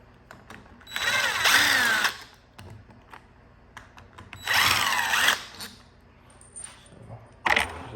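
A power tool whines in repeated bursts while backing Allen bolts out of a motorbike engine head, two long runs and a short final burst, close and loud, with light metallic clicks and handling noises between them.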